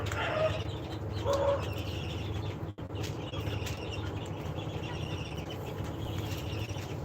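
A flock of 47-day-old laying hens clucks and chirps softly and continuously, with a steady low murmur of birds and occasional brief calls under a faint background hum.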